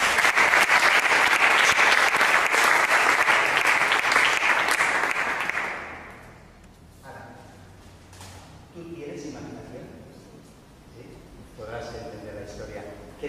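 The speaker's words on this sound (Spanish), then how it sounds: "Un fuerte aplauso para Ana" An audience at a magic show applauds loudly for about six seconds, dense clapping that then fades out, followed by someone speaking over a quiet room.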